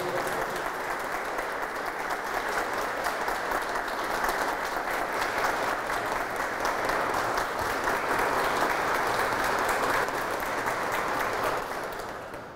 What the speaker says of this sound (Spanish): Aplauso grande a la presencia de Dios.